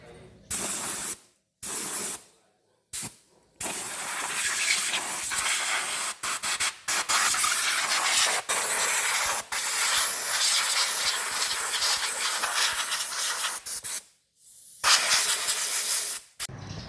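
Loud bursts of blown air hiss in long blasts, blowing dust out of a bass speaker cabinet, with brief pauses between them, close and harsh, stopping and starting repeatedly.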